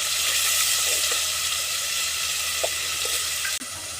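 Tomato paste frying in oil over browned onion for chicken biryani, a loud continuous close sizzle with a few faint stirring clicks and a sudden drop in level near the end.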